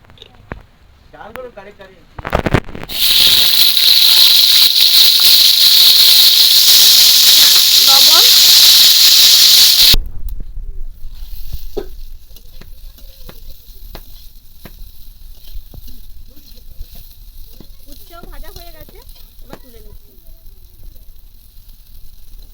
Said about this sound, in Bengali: কড়াইতে আর একটু তেল দিয়ে উচ্ছেটা ভেজে নেবো